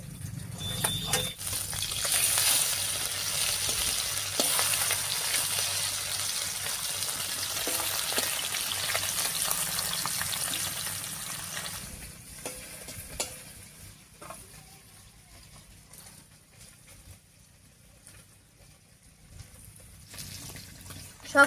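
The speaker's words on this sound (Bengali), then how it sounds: "এদিকে মাছটা ভাজা হয়ে গেছে" Fresh river fish from the Mansai river frying in a pan for a village-style curry: a loud, steady sizzle for about twelve seconds, then a quieter spitting hiss with a few sharp clinks, with no talking.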